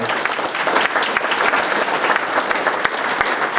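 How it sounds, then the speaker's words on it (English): A crowd of volunteers and guests at a community fair association event applauds, dense steady clapping, close and loud for a few seconds with no talking. "let's give them a big round of applause"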